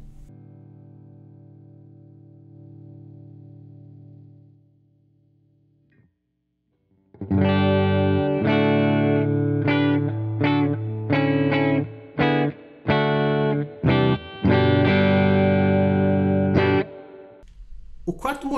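Electric guitar played through a Fender Blues Junior amplifier at high volume with little distortion: a series of loud, ringing chords and notes with short breaks, following a softer sustained tone and a brief near-silence.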